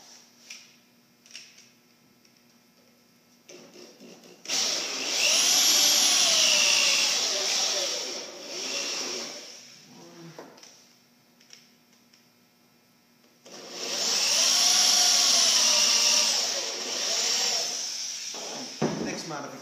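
Two long bursts of a high, whining power drill boring holes for drawer front adjusters in wooden Euro-style cabinet parts, with quiet pauses and small tool clatter between them.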